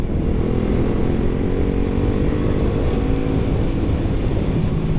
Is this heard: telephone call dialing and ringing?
no